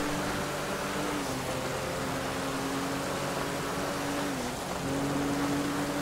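Steady rain falls in a GTA V roleplay driving race, a constant broadband hiss under a droning car engine whose pitch dips briefly near the end.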